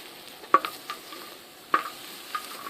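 Braai pie dough frying in a pan, with a soft, low sizzle under a few sharp, close scrapes and taps of a utensil spaced out over a couple of seconds.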